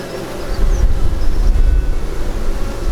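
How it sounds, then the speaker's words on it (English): Buckfast and Welsh Black cross honey bees crowd a brood frame during a June hive inspection, giving a steady, close, dense buzzing drone with no voices over it. "There's so many bees on the frame."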